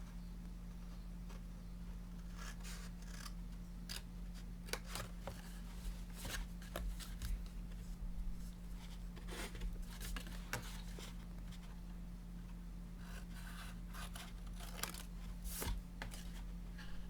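Paper for an 8x9 gatefold mini album is cut in irregular bursts of crisp snips and slicing rustles, close by, over a steady low electrical hum, with no one talking.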